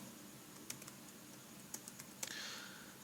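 Faint keystrokes on a computer keyboard while entering programming code, a few scattered clicks followed by a short quick run of typing, quiet and close against a soft background hiss.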